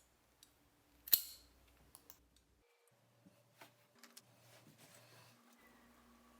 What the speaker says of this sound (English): With the second branch, I cut the tip underwater.